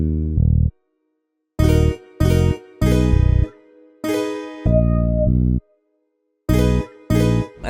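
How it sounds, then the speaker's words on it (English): Peak Bass 1 electric bass from Xenology playing in FL Studio, a bouncy melodic line of short and held notes separated by gaps, loud and isolated. "for this melody I use the peak"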